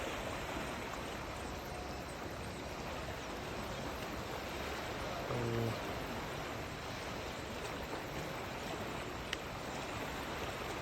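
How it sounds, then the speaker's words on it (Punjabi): Steady broadband rush of a river swollen by water released from Mirzapur Dam, constant and fairly loud throughout, with no talking. "ਪਾਣੀ ਦੀ ਰਫ਼ਤਾਰ ਅੱਗੇ ਨਾਲੋਂ ਜ਼ਿਆਦਾ ਵੱਧ ਗਈ ਹੋਈ ਹੈ"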